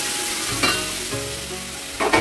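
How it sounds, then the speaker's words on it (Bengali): Fried fish, potato and papaya pieces are tipped into a pan of hot spice tempering, setting off a close, crackling sizzle with clattering stirring sounds. "এইবার মাছ, আলু, পেঁপে যেগুলো ভেজে একটু সিদ্ধ করে রেখেছিলাম সেটা এবার ঢেলে দেবো"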